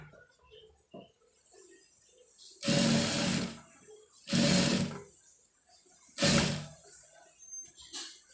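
Three loud bursts of a domestic sewing machine stitching readymade piping with a double-sided guide, each run lasting about a second with short pauses between, close up with faint background noise.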